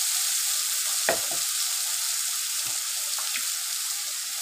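Paste of ginger, green chili and tomato hits a hot pan for an elephant-foot yam curry, a bright continuous sizzle with a few spoon scrapes and stirring knocks, close and alone.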